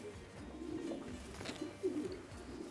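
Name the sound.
racing pigeons cooing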